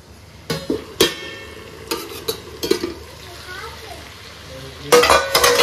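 Desi style chicken fry stirred in a pan, with a spoon clanking against the metal in scattered knocks and scrapes over a low sizzle, close by, while someone speaks over it.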